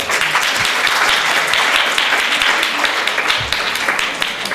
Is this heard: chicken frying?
no